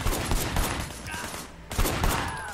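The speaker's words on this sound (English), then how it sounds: "Firing shots from the passenger window" Rapid gunfire from a car chase in Sleeping Dogs, shots fired from a passenger window, crackling in dense bursts over engine and street noise with a short lull midway, while a voice talks underneath.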